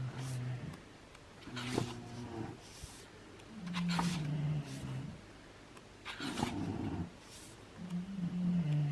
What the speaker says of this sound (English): So that's the snoring you hear is the bulldogs.